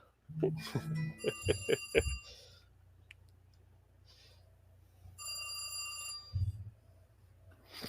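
An old-fashioned telephone bell rings in bursts of rapid metallic trills, a pause between them, with a few clicks and a thump.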